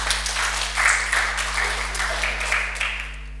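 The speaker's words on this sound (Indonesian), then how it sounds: "Kasih tepuk tangan itu Tuhan" A church congregation claps during a sermon, a dense, reverberant round of applause with a low steady hum beneath, tapering off toward the end.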